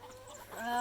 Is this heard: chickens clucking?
yes